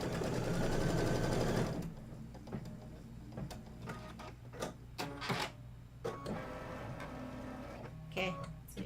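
A sewing machine stitches quilt pieces for a Kimberbell autumn quilt, opening with a loud steady run for about two seconds, then fainter clicks and handling noises as the fabric is moved.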